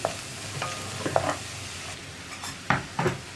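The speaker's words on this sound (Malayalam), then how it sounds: "ഇതിലേക്ക് നമ്മൾ ഒതുക്കി വെച്ചിരിക്കുന്ന തേങ്ങ ചേർക്കാം." Grated coconut is stirred into onions and curry leaves frying in a pan, giving a soft continuous sizzle broken by several sharp scraping and tapping stirs against the pan.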